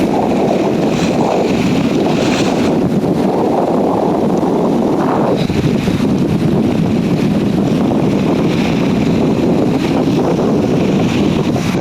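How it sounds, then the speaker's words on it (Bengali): A river roars at the far edge of Bangladesh, a loud continuous rushing wash of water with heavy wind buffeting the microphone and no voices. "নদীর কি পরিমাণ গর্জন"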